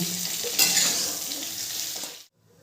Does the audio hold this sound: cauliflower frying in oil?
yes